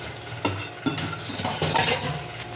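Pots and utensils used for gram flour batter are washed, giving clinks, scrapes and metallic knocks of cutlery against dishes under running water in a busy kitchen, close and continuous.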